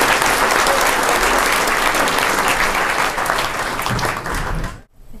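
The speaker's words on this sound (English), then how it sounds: "How about a big round of applause for Paul Piziks?" A comedy club audience breaks into loud, sustained applause and cheering for a comedian, a dense wash of clapping that cuts off abruptly at the end.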